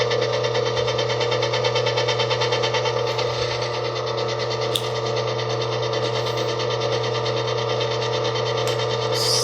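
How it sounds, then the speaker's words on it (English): Hobart N50 commercial stand mixer running at its lowest speed with no whisk attached, giving a steady, continuous motor hum with a strong low drone and whirring overtones throughout, fairly loud and alone. "So the Hobart N50 is going to be a little different because it's only a 3-speed mixer."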